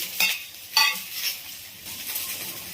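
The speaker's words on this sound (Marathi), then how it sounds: "भेंडी छान असं भाजून घ्यायचंय" Okra sizzles quietly in a pan while a utensil scrapes and stirs in a few brief strokes.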